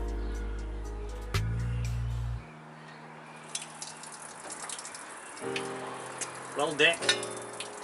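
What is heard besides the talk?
coolant water draining from Ford FE 390 engine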